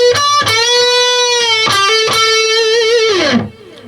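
Distorted electric guitar plays a lick: sustained bent and vibrato notes with a few picked attacks, ending in a downward slide and fading out, loud and close with no talking.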